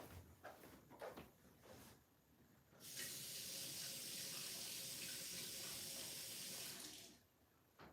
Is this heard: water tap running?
yes